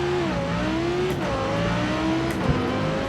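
In Forza, an Audi R8 V10 Plus with manual transmission launches from first gear, its V10 roaring loudly as revs climb and drop through quick upshifts, engine sound filling the whole clip.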